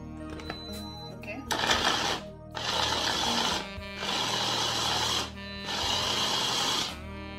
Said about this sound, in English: I'm not to waste time, that's why I'm using the blender,